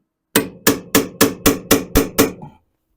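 A hammer strikes a punch against a VW Beetle front beam to make an indentation, seven sharp evenly spaced metallic blows in quick succession, close and loud, with no talking.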